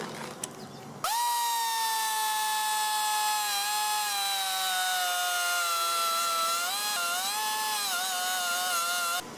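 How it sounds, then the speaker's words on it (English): A cutoff tool slices a slot into an old bolt on the radiator support of a 1956 Ford Fairlane. After a second of quiet, a loud, steady, high-pitched whine runs for about eight seconds, and its pitch dips and wavers as the tool bites. "So I'm going to cut a slot in here using my cutoff tool."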